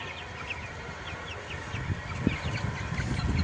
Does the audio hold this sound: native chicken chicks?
yes